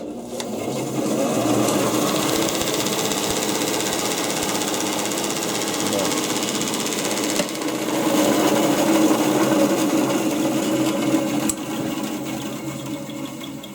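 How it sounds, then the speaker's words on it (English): A Heston and Anderson bandsaw runs in a home workshop, a steady mechanical whir with a rhythmic rattle that persists throughout at moderate volume, with a person talking over it. "I think it might be their first bandsaw they ever designed. But I've got this switch here."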